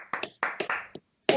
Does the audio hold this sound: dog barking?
no